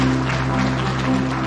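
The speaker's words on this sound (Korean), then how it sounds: "박수 보내주십시오" Applause from guests at an art exhibition opening at a provincial art museum in South Jeollanam-do; loud, continuous crowd clapping over a steady low hum in the room.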